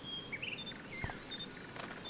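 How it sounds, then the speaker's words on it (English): Scattered birds flock and chirp in the game Life is Strange, with light, high tweets sprinkled throughout at a soft, moderate distance over a quiet ambient backdrop. "The birds are flocking around Samuel."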